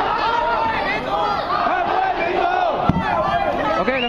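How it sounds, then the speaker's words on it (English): A large protest crowd outside an occupied government building shouts together in a dense, loud roar of many overlapping voices, calling for people to sit down, sustained throughout with no single voice standing out. "some people in the crowd are asking everybody, don't stand up, sit down"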